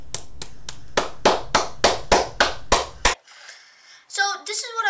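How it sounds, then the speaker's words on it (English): Eleven sharp hand claps in a steady rhythm, close and loud, followed by a brief hush and then a voice beginning to speak. "Let's get it, boys. Clap that up."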